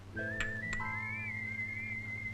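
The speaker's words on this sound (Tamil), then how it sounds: "மாப்பிள்ள நீங்க விசில் அடிச்சுதான் ஆகணும்" A person whistles a clear, sustained tune with gently wavering pitch, close and alone, with a steady low hum underneath and a couple of brief knocks early on.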